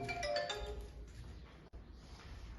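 Phone ringtone from an incoming call, a short melodic electronic ring with bright repeating tones that fade out, heard at home during an online school lesson in a frontline village.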